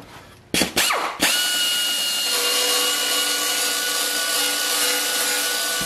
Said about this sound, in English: So I'm just going to take the tops of those welds off.